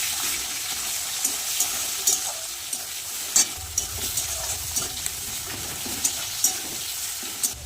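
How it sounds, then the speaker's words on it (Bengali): Chopped onions frying lightly with dried red chilli, cumin and bay leaf, a steady close sizzle broken by repeated scraping and stirring knocks from a spatula, with no talking. "পেঁয়াজটা একটু হালকা ভেজে নেব"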